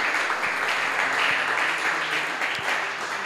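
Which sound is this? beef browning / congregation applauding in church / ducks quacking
congregation applauding in church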